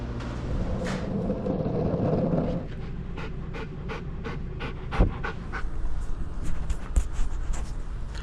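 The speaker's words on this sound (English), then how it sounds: "This is Anubis, Jesselyn's dog." A dog pants steadily and rhythmically close by, each quick breath repeating alone with no talking, louder and more rushed in the first few seconds before settling into a lighter, even pace.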